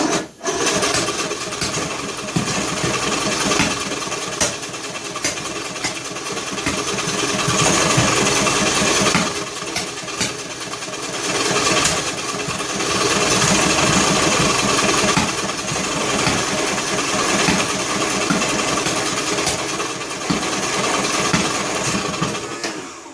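A John Deere L100 lawn tractor's small engine cranks on choke and then runs roughly, a steady loud mechanical drone with uneven sputters throughout.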